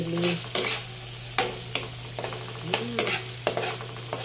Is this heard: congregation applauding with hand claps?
no